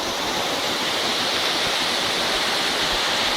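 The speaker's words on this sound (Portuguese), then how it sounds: "Aqui é a cachoeira do Zigue-Zague." Zigue-Zague waterfall in Chapada Imperial, a steady close roar of falling water filling the whole clip with broadband hiss, loud and unbroken, with no voices over it.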